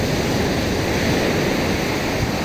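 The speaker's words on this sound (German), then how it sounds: "Da hinten da am Berg, da knallen die Wellen auch ganz schön." Waves crash against the shore near a hillside at a beach bar in Gazipasa, a constant dense wash of surf noise with no distinct breaks, loud and unbroken throughout.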